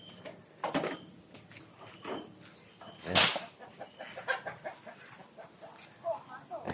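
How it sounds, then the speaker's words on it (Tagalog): Chickens cluck in a backyard where birds are being readied for a birthday feast, with short bursts of clucking spread across the clip and voices talking nearby. "Yung manok, oh."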